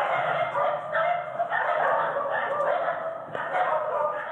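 Several dogs kept in a two-room apartment bark and yap almost without pause, a loud overlapping chorus that rises and falls.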